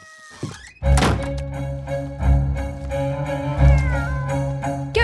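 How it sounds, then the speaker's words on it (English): A cat in a cartoon meows and caterwauls several times, the cries rising and falling between loud thunks, close up with no speech. "Here, kitty cat."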